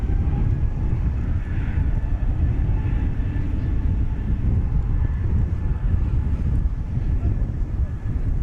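An Alaska Airlines jet inbound from Portland, Oregon lands at Dallas Fort Worth airport: a broad, distant roar rumbles steadily for several seconds outdoors, with wind buffeting the microphone.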